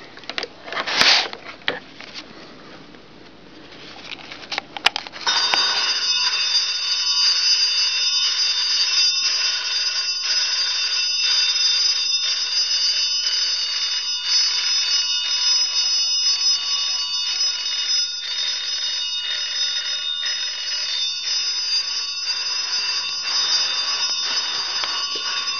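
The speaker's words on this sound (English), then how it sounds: "I've got 5 antique bells hooked to it, and we'll hook it up and you can hear it ring." A homemade telephone bell tester running on 32 volts DC sets five antique telephone bells ringing. A few handling clicks come first, then a loud, continuous metallic ringing that holds steady for about twenty seconds.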